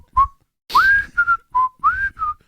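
A person whistles a short melodic phrase of about six clear notes with rising and sliding glides, separated by brief pauses, close and alone without talk.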